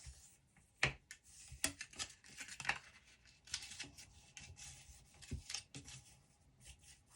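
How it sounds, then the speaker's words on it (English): Card stock is folded and burnished along score lines, making soft, close rubbing and scraping strokes in irregular bursts, faint and without voices. "And I'm just going to fold and burnish these score lines."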